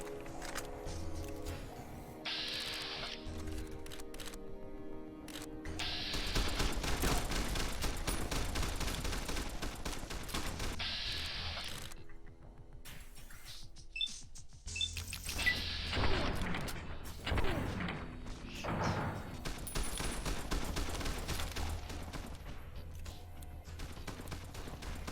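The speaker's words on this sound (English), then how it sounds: "Varmint rifle." Varmint rifle gunfire in a modded Fallout New Vegas game, sharp shots scattered irregularly among other crashes and game effects over a long stretch, with no speech.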